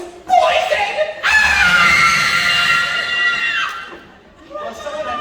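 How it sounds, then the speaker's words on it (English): A woman lets out a loud, sustained scream after drinking poison in a high school stage production of Clue. A shorter cry comes before it, and a noisy crowd follows. "someone had to stop her screaming"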